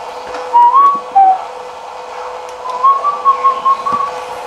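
Someone whistling in the dark during a paranormal investigation in Staffordshire, two short bursts of tuneful whistled notes followed by a longer wavering run, clear and fairly close over a low background hum.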